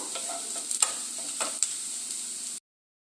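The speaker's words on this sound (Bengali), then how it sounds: "জিরেটা এই পেঁয়াজের সময় একটু লাল করে ভেজে নেব" Whole cumin seeds fry with onions in a pan, giving a close, even sizzle broken by a few sharp clicks and stirring scrapes before it cuts off abruptly into silence.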